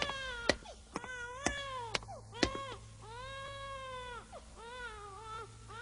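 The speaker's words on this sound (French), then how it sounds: "J'ai l'impression que ce sont les pleurs d'un bébé." A baby cries in repeated wailing bursts, each rising and falling, with sharp knocks and clatter between the cries and a low steady hum behind, fairly faint and with no talk.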